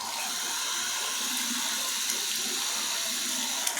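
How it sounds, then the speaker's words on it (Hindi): Water pours steadily from a Jaquar wall shower mixer set to full shower pressure, producing a constant, hissing spray that stays even throughout with no talking. "फिर अगर आपको और एक घुमाए तो ये फुल शावर के टाइप पे आता है, और एक में शावर का पूरा प्रेशर आता है।"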